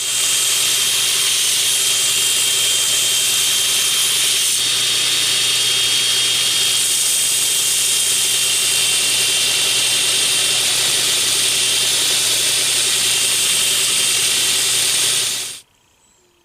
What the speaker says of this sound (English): the 36 grit really gets the steel out of the way pretty quickly